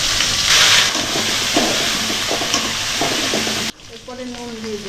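Brinjal (eggplant) pieces added to a pan of hot oil with onion and nigella seeds, giving a loud, steady sizzle with stirring scrapes that drops abruptly to a quieter frying hiss near the end.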